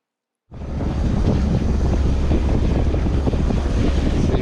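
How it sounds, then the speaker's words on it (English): Strong wind roars steadily across a sailboat under sail at sea off Baja's Loreto Islands, a loud continuous rush with deep buffeting on the microphone that starts abruptly and holds without a break. "the wind kicks up the last 2 miles"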